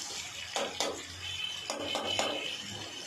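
Water is poured into a cooking tomato masala for dal, a brief splashing hiss mixed with a few clinks of a utensil against the pot, close and fairly quiet.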